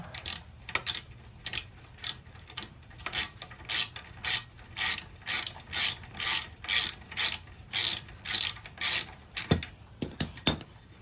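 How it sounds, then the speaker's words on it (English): A ratchet wrench loosens a 12mm nut on a Honda Grom exhaust near the resonator, a close series of sharp rhythmic clicking bursts, about two per second, with brief pauses. "there's one more 12mm nut. Put your wrench on it."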